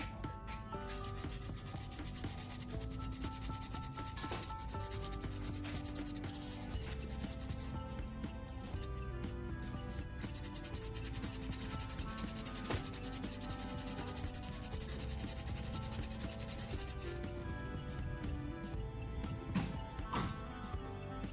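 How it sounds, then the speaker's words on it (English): Folded sandpaper rubbed against cordless drill battery terminals, a dense run of quick scratchy strokes in an even back-and-forth rhythm, close up, with a short pause midway. "I fold a piece of sandpaper and gently rub it against the two battery terminals"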